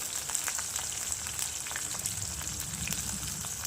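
Chopped tomatoes and three chopped green chilies frying in a pan, a continuous close sizzle with soft bubbling crackle, steady and even throughout.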